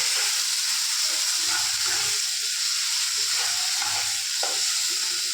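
Mashed green beans (borboti bhorta) with a little sugar, cooked down in a pan, give a steady close hiss of frying under a faint stirring scrape, with no talking.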